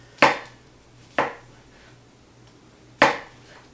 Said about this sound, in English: We all know what it's like to slice into a wet mushroom.